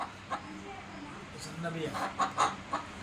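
A fighting rooster clucking close by, several short throaty clucks rising toward the end, with a person talking in the background.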